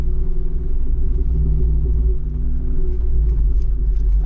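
An off-road SUV, a Jeep Wrangler Rubicon 392 or Bronco Raptor, drives a trail in 4 high, giving a loud, steady low engine rumble close by with no breaks.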